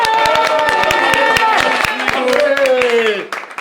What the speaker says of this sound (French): attendez un applaudissement pour la tablette rose